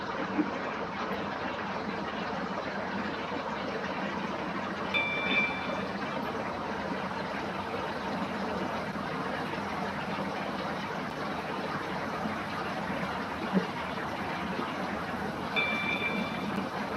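A train runs in the Roblox game Stepford County Railway, a steady low rumble and hum of the carriage in motion that lasts throughout at moderate level, with two faint high electronic tones partway through.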